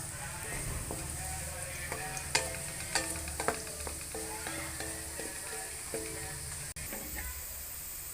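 Onions for beef pulao fry and brown in a pot with a steady loud sizzle, broken by occasional scraping stir strokes and clinks from a spoon against the metal.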